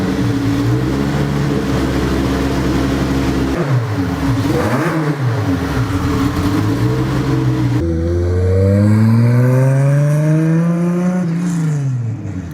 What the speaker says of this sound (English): The result is one incredible V12 that sounds surprisingly like a 1JZ or a 2JZ